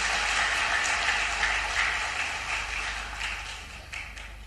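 An audience at a government event in Madhya Pradesh gives loud applause for Maharaj ji, a dense wash of clapping that starts strong and tapers gradually, with a few sharper claps near the end.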